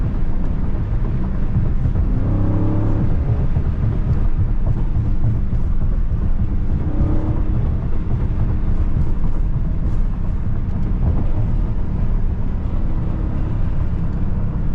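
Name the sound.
Dodge Charger Scat Pack widebody accelerating in lower gears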